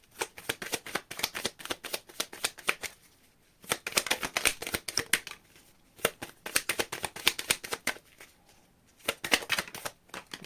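Playing cards are riffle-shuffled repeatedly, with bursts of rapid fluttering clicks separated by short pauses, close and crisp.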